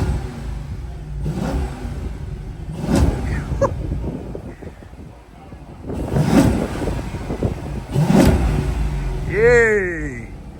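A Dodge SRT car engine with a blown head gasket revving in repeated loud surges over a steady rough idle, close by, with voices shouting over it.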